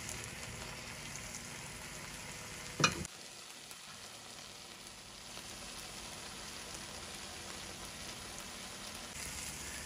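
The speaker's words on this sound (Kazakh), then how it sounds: "туралған қызыл болгар бұрышын қосамыз. Тағы да 1-2 минут араластыра отыра қуырамыз." Chopped red bell pepper stir-frying in a pan for shakshuka, a faint, steady hiss of frying with one brief clack of a utensil early on and no voices.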